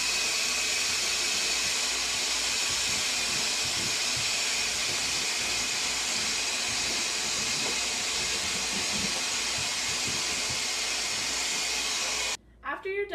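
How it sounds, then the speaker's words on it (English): Vacuum cleaner sucking up excess dust around a freshly cut hole, a loud steady whooshing drone running continuously, cutting off abruptly near the end. "we need to take a vacuum and vacuum the excess dust."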